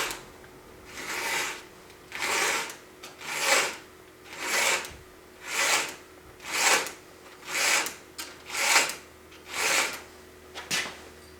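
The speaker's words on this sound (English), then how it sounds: "Now we got to get on to sharpening up that chain." Hand filing sharpens a chainsaw chain on an old chainsaw under restoration: about ten regular rasping strokes, each a bright scrape followed by a short pause, close and steady with no speech.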